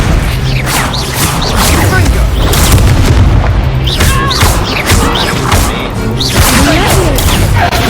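Incendio fire spell blasts in the game Hogwarts Legacy, repeated heavy booms and crashing impacts in a loud, busy fight with whooshes, continuous throughout and mixed with voices.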